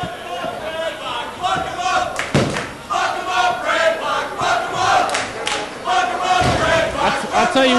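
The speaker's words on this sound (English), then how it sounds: "The crowd here is behind the challenger" Wrestling crowd roaring and cheering for the challenger, a loud, sustained wall of shouting voices with a few sharp thuds and surges, close and dense throughout.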